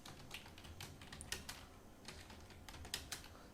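Quiet typing on a computer keyboard while entering text in a Microsoft Word table: irregular bursts of soft key clicks with short pauses between them.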